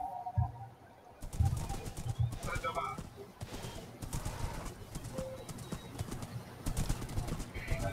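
Horse hooves clip-clop at a steady trot in a Lord of the Rings video game, moderately close and continuous, with faint bird-like fluttering and no speech over them.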